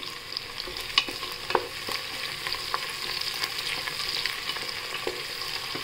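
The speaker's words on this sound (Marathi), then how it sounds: "कांदा, काजू आणि हिरवी मिरची आणि गरम मसाले हे तेलात परतून घेतो आपण।" Onion, cashews, green chili and garam masala sauté in hot oil for a peas and paneer pulao: a constant sizzle under irregular clicks and scrapes of a stirring spoon, nearby and with no voices.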